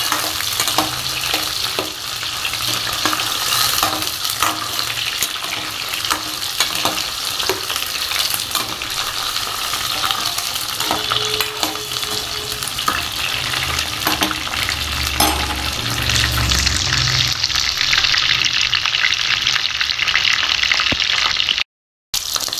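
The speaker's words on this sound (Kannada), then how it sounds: "ಈಗ ಈರುಳ್ಳಿನ ಚೆನ್ನಾಗಿ ಹುರಿಬೇಕು." Onions frying in a pan as the base of a Mysore-style fish curry give a steady, loud, close-up sizzle with stirring scrapes throughout, and no one speaks.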